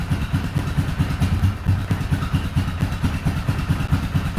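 A Yamaha Kodiak 450 ATV engine idles in a shop while warming up with the choke partly on, a close, loud, evenly pulsing putter with slight unsteadiness and no speech.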